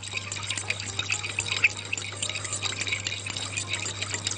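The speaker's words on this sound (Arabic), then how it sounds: "نقلب بقى التتبيلة بتاعتنا دي كويس جدا جدا." Light liquid swirling and soft clinks as a thin, runny marinade of salt and pepper for breaded escalope is stirred steadily in a bowl, over a low steady hum.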